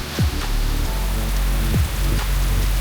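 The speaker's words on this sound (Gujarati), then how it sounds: "જોરદાર વરસાદ ચાલુ થઈ ગયો છે" Heavy rain pours in a steady, dense hiss with no breaks, alongside a low droning hum, heard from a stopped vehicle in Linga village, Dang district.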